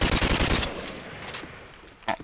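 Rapid bursts of AK-47 automatic fire in a shooter video game, loud and dense for about half a second, then trailing off into quieter reverberant shots and a final sharp crack.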